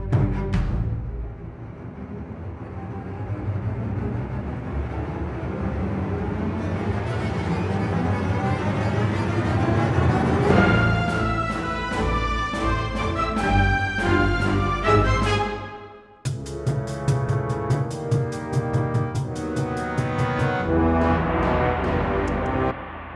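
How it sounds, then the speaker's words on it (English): An orchestral string riser in tense action-film music climbs steadily over a thick low backing, then breaks into sharp rhythmic staccato hits and plucks that carry on after a brief drop, loud and sustained with no voices. "we will have this like string riser"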